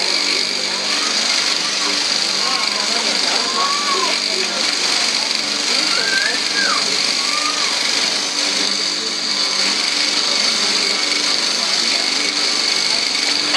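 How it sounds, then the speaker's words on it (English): A repurposed washing machine motor drives a tool for working zebu horn in Madagascar, giving a loud, steady high-pitched whine throughout, with brief chirping and scraping from the work surfacing over it. "And a motor is a wash machine motor."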